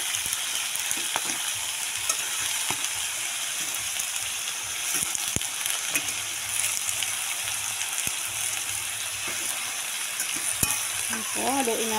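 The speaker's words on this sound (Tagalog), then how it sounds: "So, haluin po natin." Chopsuey vegetables fry in a pan with a continuous crackling sizzle, broken by occasional stirring scrapes and taps, close and steady throughout, with no talk.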